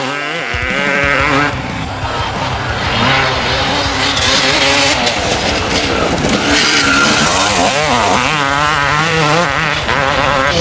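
A Yamaha YZ125/YZ250 two-stroke motocross motorcycle engine roars loudly and continuously, its pitch rising and falling as the throttle is worked, up close.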